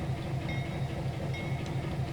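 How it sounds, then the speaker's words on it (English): An SW1500 shunter locomotive moving in the Trainz World Tour video game, a steady low rumble with rhythmic rail clicking and a faint hiss, continuous and moderately loud. "in this little, well, quite big shunter. I think it was the SW1500."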